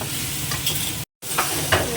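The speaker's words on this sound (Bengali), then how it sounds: "হালকা একটু লাল করে ভেজে নেব" Stirring and frying in a wok, food sizzling until lightly reddened, with a steady broadband hiss and scraping interrupted by a brief silent gap near the middle.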